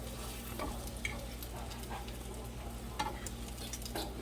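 Banana roll-ups crisping in a frying pan, a steady soft sizzle with occasional light scraping and clinks of a utensil against the pan, close and unhurried with no talking.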